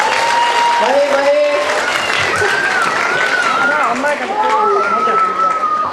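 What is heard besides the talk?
audience applause after a solo song performance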